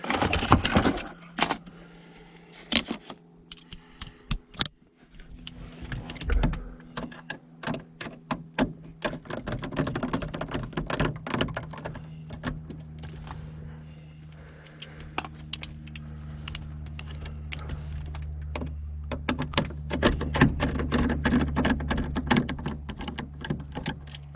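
A T10 Torx driver backs out interior trim screws on a 2016 GMC Sierra or Chevrolet Silverado truck, producing scattered close clicks and small ticking bursts over a low background hum.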